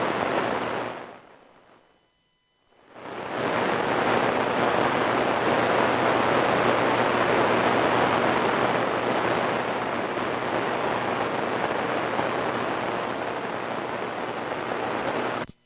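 Loud, steady broadband hiss of static from a shortwave tube radio receiver with RF gain backed off, briefly dipping quiet near the start before surging back and holding constant to the end.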